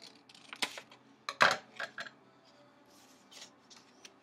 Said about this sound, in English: I'm going to take my scissors and I'm going to cut off just part of the fold